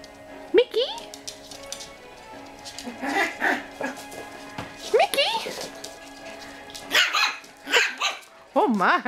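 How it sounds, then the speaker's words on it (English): A 7.5-week-old Cavachon puppy gives several high, sharp barks and yips in uneven bursts, close by, with whimpering between and a person talking softly. "such a big bark for a little boy"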